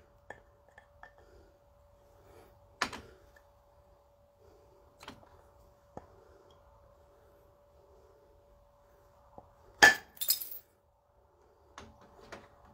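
Flakes being struck off a stone biface by a flintknapper: a few sharp, isolated cracks and clicks spaced seconds apart, with a louder cluster of strikes near the end over a quiet, faintly humming background.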